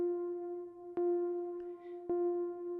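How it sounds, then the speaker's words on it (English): A Moog Subharmonicon synthesizer plays a single oscillator, VCO 1, with its subharmonics turned down: one steady, sustained tone with two brief clicks, heard alone. "So what you're hearing is just VCO 1."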